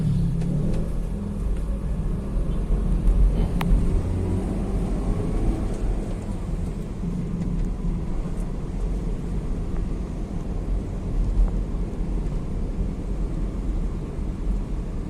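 A 2012 Nissan Grand Livina XV manual with an aftermarket catalytic converter revving hard in second gear, a deep steady engine rumble held loud for the whole stretch with slight surges.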